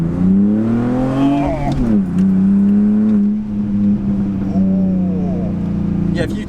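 A car with a backbox-delete exhaust revs in short throttle blips, its loud, droning engine note rising, dropping and swelling again close by, heard from inside the car.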